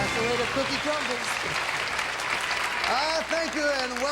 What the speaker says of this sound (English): Let's play a game of musical chairs and give ourselves a round of applause.